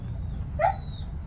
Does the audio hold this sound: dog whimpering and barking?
yes